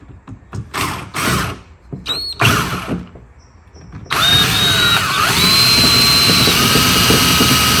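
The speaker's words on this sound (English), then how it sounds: "Let's go fix this broken pin here and drill it out here." A drill whirs in several short bursts with pauses, then runs continuously with a rising, whining pitch as it bites into metal, drilling out a broken pin on a John Deere D110 lawn tractor.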